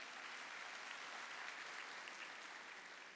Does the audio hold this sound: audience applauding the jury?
yes